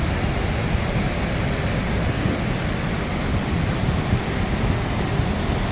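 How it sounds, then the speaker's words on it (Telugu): Water rushing down from a large pipe at a power plant, a loud, unbroken roar of broad noise with no pauses or changes. "కింద వాటర్ ఫ్లో అవుతుంది చూసారా"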